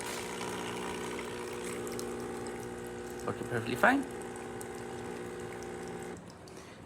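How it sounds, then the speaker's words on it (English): New water pump in a DeLonghi espresso machine runs with a steady hum while water flows from the group head, a few brief gurgles in the middle, and a voice speaks briefly. "with a new water pump inside the machine, as you can see, it has a nice steady flow coming out of the group head"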